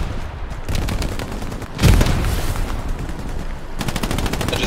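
Rapid machine gun fire in the WWII shooter Hell Let Loose, sustained bursts of fast rattling shots with a heavy boom midway and another burst near the end, loud and dense.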